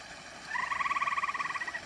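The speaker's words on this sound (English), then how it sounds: "You hear that sound? That's a little frog right there." A small frog calls from a garden bed freshly topped with composted manure: a rapid pulsed trill lasting just over a second, moderately loud and close, with no other sound around it.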